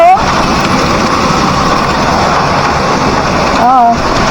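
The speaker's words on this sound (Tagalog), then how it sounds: "Grabe, umuulan ng ice." Hail pours down during a summer storm in the Czech Republic, a dense, loud patter of ice striking surfaces close by, steady throughout, with a brief voice-like sound near the end.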